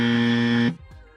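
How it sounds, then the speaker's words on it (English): Buzzer sound effect marking a rejected prediction on a live hockey talk show: a loud, harsh, droning buzz that holds for about 0.7 seconds, then cuts off sharply. "you will hear the buzzer."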